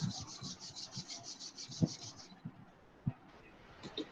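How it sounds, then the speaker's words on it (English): Palms rubbed together quickly during a school class exercise, a run of rapid, even rasping strokes for about two seconds followed by a few scattered soft rubs, close and faint. "rub your palm"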